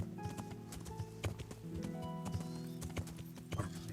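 Horse hooves clip-clopping in the video game Kingdom Come: Deliverance, a steady rhythmic run of close hoofbeats over faint tonal ambience, with no voices.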